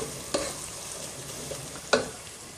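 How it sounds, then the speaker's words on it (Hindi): Onion with ginger garlic paste frying on a high flame, a soft steady sizzle with two sharper spoon-stirring clicks, close and moderately quiet with no talking. "ये हल्का सा ब्राउन होना, जब तक इसको तेज फ्लेम पे फ्राई कर लेंगे।"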